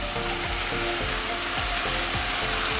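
Kangaroo mince drops into a hot pan of vegetables cooked in a little stock, setting off a loud, steady, close sizzle that roars on without a break.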